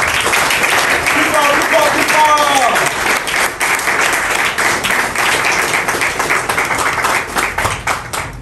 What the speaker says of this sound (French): Est-ce qu'on peut applaudir très fort?